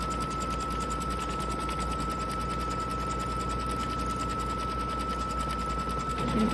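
A sewing machine runs steadily at close range, stitching a second pass around an appliqué outline for a Kimberbell Cup of Cheer embroidery project, a continuous fast mechanical whir with a constant hum and no talk.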